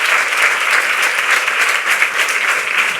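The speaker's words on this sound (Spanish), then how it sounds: "Un aplauso." An audience at a formal Spanish health-alliance presentation breaks into loud, sustained applause for the health minister, dense steady clapping filling the room throughout.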